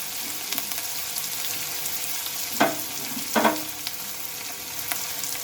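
Chopped onion, garlic and green chilli fry in oil with a continuous soft sizzle, broken by a couple of louder stirring scrapes from a spoon in the pan.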